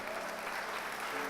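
A church congregation applauds, a dense, steady wash of clapping hands filling the space with no break.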